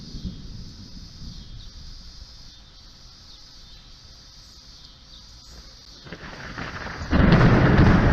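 Thunder from nearby lightning builds from a low background rumble amid rain and insect chirps into a sudden loud, crisp crack and roar near the end.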